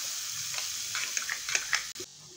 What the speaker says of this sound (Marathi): बटर ॲड करायचं आहे आणि बटर जळू नये म्हणून फक्त थोडंसं मी अर्धा चमचा तेल घेतलेलं आहे